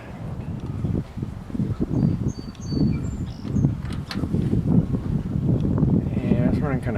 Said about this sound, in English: you can hear me with this wind